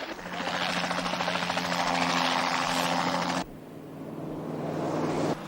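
A helicopter chasing an '81 GMC K-2500 Sierra pickup flies overhead, a loud steady rotor and engine roar that drops abruptly partway through, then swells again.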